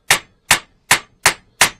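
A hammer strikes wood five times at a steady, unhurried pace while joining two small pieces during a DIY bedroom build. Each blow is sharp, loud and close, with short silences between strikes and no talking.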